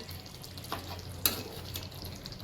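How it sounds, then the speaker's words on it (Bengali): Koi fish with a slit green chili being turned in hot oil in a pan, a quiet continuous sizzle broken by a few soft scraping stirs. "কই মাছগুলোকে ভালো করে নাড়াচাড়া করে নিয়েছি"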